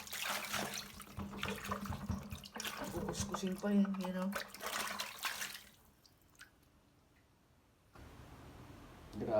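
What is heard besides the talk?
tap water running into a bucket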